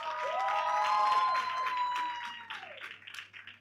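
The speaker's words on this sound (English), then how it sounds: "Let's give a round of applause for that." Audience applause and cheering fill a room at a summit gathering, moderately loud at first, with whistle-like tones riding over the clapping before it breaks into scattered, fading claps.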